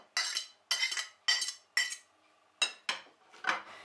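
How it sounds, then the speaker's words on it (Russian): Grated potato is scraped into a bowl with a utensil in a run of about seven short, close scraping and clinking strokes, each separated by a brief pause, with no talking. "Перекладываем картофель в миску."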